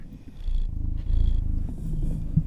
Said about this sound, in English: I don't know if you can hear him purring.